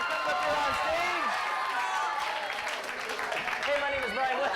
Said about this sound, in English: Let's give her a big round of applause as she comes up here on stage